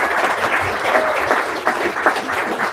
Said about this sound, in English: Everybody clap for Kurt.